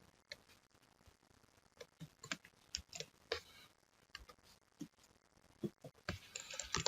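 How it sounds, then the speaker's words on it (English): Typing on a computer keyboard at a desk, with irregular close key clicks in short bursts and a quick clatter near the end, no voices. "I'm going to type this guy in here."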